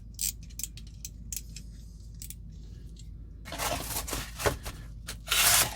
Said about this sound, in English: We cut those blades off, the dull blades now, and then cut some cardboard here.